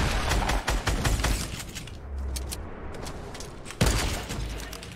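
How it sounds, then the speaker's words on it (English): A minigun fires in the Fortnite video game during a duos match, a dense stream of rapid gunfire crackling loudly and continuously, thinning into scattered shots and then a fresh heavy burst. "Ani with a minigun."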